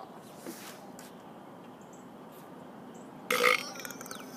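Quiet room tone carries a few faint mouth sounds before a single loud, close burp erupts near the end and trails off in a short rough tail.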